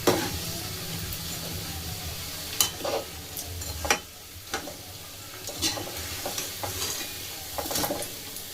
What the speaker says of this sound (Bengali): ভাজতে একটু সময় লাগে, কিন্তু সুন্দর হবে আস্তে আস্তে করে, কম মানে ফ্লেমের মধ্যে ভাজবে